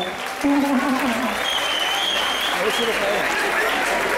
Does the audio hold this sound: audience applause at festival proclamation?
yes